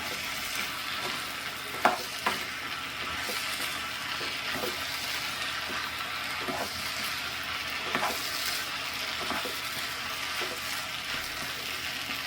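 Okra stir-fry sizzles steadily in a pan while being stirred, with a constant frying hiss and scattered clicks of the spatula against the pan. No one speaks.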